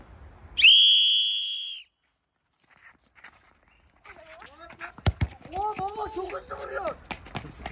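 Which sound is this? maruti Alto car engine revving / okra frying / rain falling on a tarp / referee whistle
referee whistle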